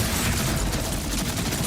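Rapid gunfire from a very fast-firing weapon in Borderlands 4, a dense, continuous loud stream of shots with no pauses.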